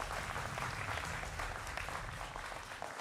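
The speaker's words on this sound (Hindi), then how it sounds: "जोरदार तालियों के साथ तमाम मेहमानों का अभिनंदन है।" Studio audience at a televised Hindi political debate show applauding steadily to welcome the guests, a dense wash of clapping held throughout without any voices.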